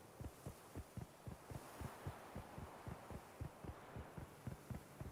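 A fast, rhythmic heartbeat-like throbbing in The Witcher 3, steady low pulses repeating about four times a second over a faint hum, with no talk.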